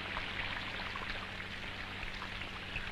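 Rain falls steadily on a house with a leaking roof, a continuous soft patter of drops in an even wash with faint low hum beneath.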